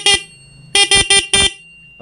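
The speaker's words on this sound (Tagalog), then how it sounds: "At mapapatunog mo na ngayon yung stock horn." A car's stock horn, freshly wired to the accessory supply, honks in four loud close blasts: one short toot, a pause, then three quick honks in a row.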